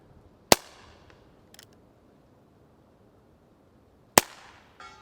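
A long-barrelled rifle fires two sharp, loud cracks at a 100-yard target, spaced a few seconds apart, each followed by a brief fading echo, with quiet outdoor background and no talk between.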